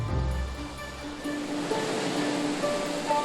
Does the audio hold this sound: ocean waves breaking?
yes